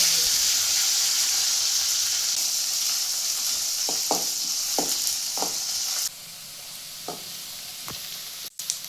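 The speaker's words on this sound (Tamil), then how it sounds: "எண்ணெய் காஞ்சிருச்சு, கொஞ்சமாக சோம்பு போட்டு வெங்காயம்," Onion, fennel seeds and curry leaves fry in hot oil in a kadai, giving a loud, steady sizzle and hiss with several short clicks of stirring. The sound drops slightly partway through, and a sharp knock comes near the end.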